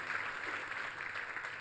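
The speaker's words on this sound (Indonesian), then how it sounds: "Tepuk tangan yang paling meriah buat Tuhan kita." A church congregation claps during a sermon, a steady wash of applause from a crowd at moderate distance with no talk over it.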